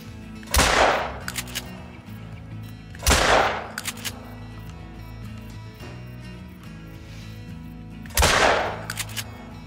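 A 12 gauge Cacciatore shotgun loaded with slugs fires three heavy blasts in a video game, each a loud boom with a short rumbling tail followed by mechanical reload clacks, the shots spaced unevenly over several seconds.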